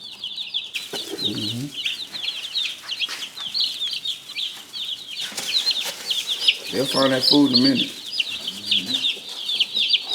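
Young Cornish cross chicks cheep steadily in high, busy chirps throughout, with a voice talking briefly at the start and again near the end.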